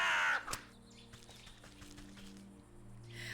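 Crows caw in the video game Wytchwood, a loud harsh call at the start and another near the end, over soft ambient game sounds and a low drone.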